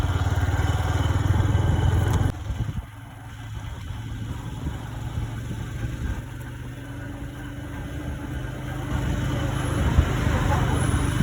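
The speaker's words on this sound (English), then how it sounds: "this is my first time traveling on a moto" A motorcycle taxi engine hums steadily up close with wind and road noise on a ride in Kigali, a low droning ride that stays fairly constant throughout.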